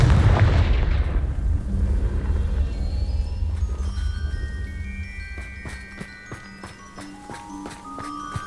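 A Confringo fire spell in Hogwarts Legacy bursts with a loud booming blast that rolls away and fades, followed by scattered ringing chimes and clinks of game effects.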